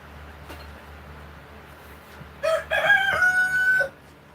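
A rooster crows once, loud and fairly close, over quiet low background hum.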